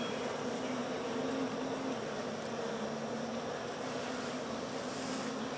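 Honey bees buzz around hive frames in a backyard apiary, a dense steady drone close by that holds evenly throughout, with no talking.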